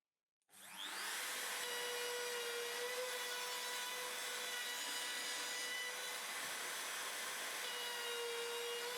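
A router mills a mortise into a wood workpiece, starting abruptly and then running as a loud, steady high-pitched whine with a rough cutting texture, alone and close.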